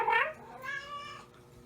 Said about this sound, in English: Look at these cats. They want their midnight food